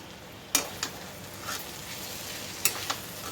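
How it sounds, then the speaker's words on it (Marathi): Tondli (ivy gourd) and potato sabji being stirred in a pan: a steady soft sizzle broken by a few sharp spoon knocks and scrapes against the pan, close and distinct. "आपण थोडीशी कोथिंबीर टाकू आणि ह्याला मिक्स करून घ्यायचं"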